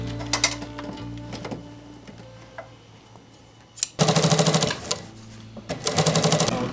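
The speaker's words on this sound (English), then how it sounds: "Double needle stitch all the way throughout to create what's going to be the waist for the jeans." A sewing machine runs double-needle stitching along a denim jeans waistband in a Japanese denim workshop, first in short clattering bursts, then in two loud sustained rattling runs after a brief pause.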